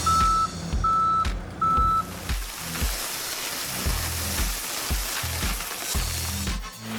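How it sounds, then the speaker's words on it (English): A dump truck reverses with three loud, evenly spaced backup beeps while its engine rumbles, then sand pours out in a long rushing hiss broken by low thumps as the load drops. "The dump truck is pouring sand while the hands spread it evenly."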